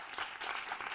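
A seated audience at a university thesis competition applauds the candidates gathered on stage, a dense, even wash of clapping lasting about a second.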